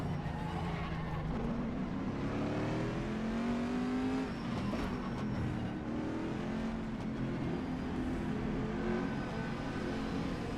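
GTE race car engine revving loudly and continuously in rFactor 2 at Magny-Cours, with rising and falling harmonic pitch sweeps as it accelerates and shifts, heard alone throughout.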